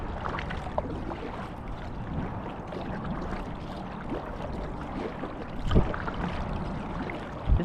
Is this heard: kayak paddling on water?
yes